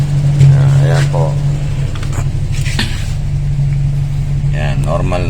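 Toyota Corolla Big Body GLi engine idling steadily at normal RPM after a faulty injector repair, a constant low mechanical hum under someone talking nearby.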